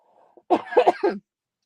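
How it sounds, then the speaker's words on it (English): A single wet cough, close and fairly loud, breaking into a few quick bursts before stopping, with a faint voice just before it. "cough, sorry."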